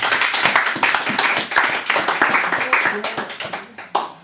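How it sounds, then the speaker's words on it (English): Audience clapping and applauding steadily, a dense patter of hands that gradually thins toward the end. "So more applause, please, for Anne."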